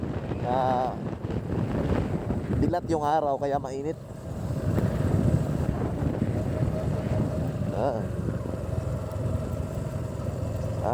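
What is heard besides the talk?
wind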